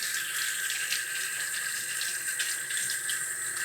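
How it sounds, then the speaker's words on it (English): Tap water runs steadily into a kitchen sink as cooking equipment is rinsed, a continuous close splashing hiss with no one speaking. "let's go ahead and rinse off our equipment"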